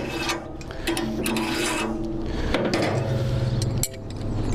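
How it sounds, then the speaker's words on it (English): A carving stop slid along the spit pole of a hog roast machine, giving dense scraping, ratcheting metal rubs and clicks that run steadily throughout at close range. "This little device is called a carving stop, and what happens, it goes along the spit pole on the outside of the machine."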